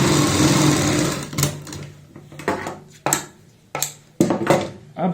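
A sewing machine stitches the folded edges of pintucks on a neck design, running steadily at first and then in several short bursts separated by pauses.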